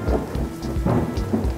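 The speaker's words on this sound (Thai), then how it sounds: "ฝนตกหนักลมแรงสุด" Heavy rain pours steadily in a strong wind while low thunder rumbles and booms repeatedly through the downpour, loud and close, with no voices.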